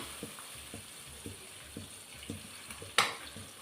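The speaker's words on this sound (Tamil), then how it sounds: "அரைச்ச மசாலாவை போட்டுக்கிறேன். இது நல்லா வதக்கலாம்." Soft, steady sizzling of a ground coconut masala paste frying in a pan for mango kulambu, with faint rhythmic spoon scrapes and one sharper clatter near the end.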